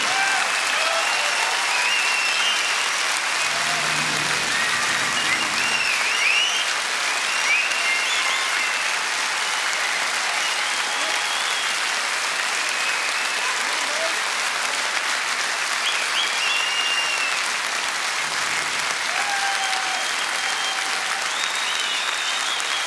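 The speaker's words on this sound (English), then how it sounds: "applause." Sustained audience applause at a live Irish traditional music performance of reels with banjo, steady dense clapping that carries on throughout without a break.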